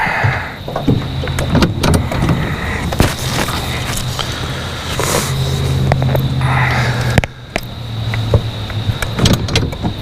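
Strong wind buffets loudly and steadily across open water, with thumps and rumbling from a small boat rocking on the waves.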